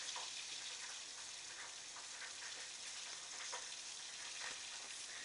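Rump steak searing in a hot frying pan, giving a steady, dense sizzle and crackle with small pops throughout, moderately close and without speech.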